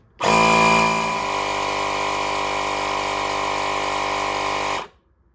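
A wheelbarrow tire's inner tube is inflated by an electric air compressor, a steady, loud mechanical drone that runs continuously for about four and a half seconds and then cuts off abruptly.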